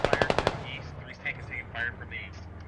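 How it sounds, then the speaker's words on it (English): An automatic weapon fires a rapid burst of about seven shots in the video game Squad, followed by scattered fainter distant shots and radio-like chatter underneath. "They're shooting onto the fob"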